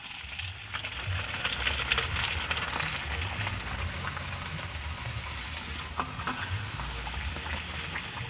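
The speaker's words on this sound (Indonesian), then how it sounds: "Opak, kita goreng opak." Opak crackers fry in hot oil with a steady, dense sizzle and crackle that continues throughout, close and moderately loud, with no talking.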